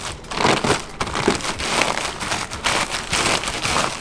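Crackers being crushed inside a plastic bag to make a fine coating for turkey, a dense, continuous crinkle and crunch of plastic and crumbs, close and fairly loud throughout.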